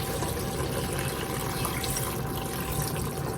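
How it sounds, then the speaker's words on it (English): Beef broth, a full 32 ounces, pours steadily from a carton into a soup pot of cabbage soup, making a continuous close liquid splashing and gurgling with no talk. "Now to this, we're gonna add, this is 32 ounces of beef broth."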